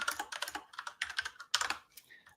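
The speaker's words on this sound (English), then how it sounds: "this is what it sounds like when I'm writing as well" Quick bursts of typing on a computer keyboard, close and fairly quiet, with irregular clusters of key clicks and short gaps between them.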